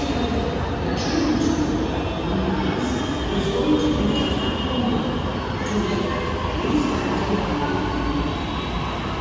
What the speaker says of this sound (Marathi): फायनली मेट्रो आली.